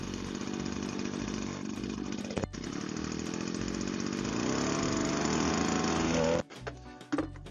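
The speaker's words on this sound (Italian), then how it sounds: "Facciamo girare un attimo al minimo che si riscalda." A GeoTech BBV26 3-in-1 petrol leaf blower's small two-stroke engine runs at a steady, loud buzzing idle while warming up, with one brief dip near the middle before it cuts back sharply toward the end.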